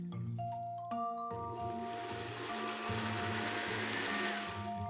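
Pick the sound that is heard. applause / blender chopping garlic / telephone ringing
blender chopping garlic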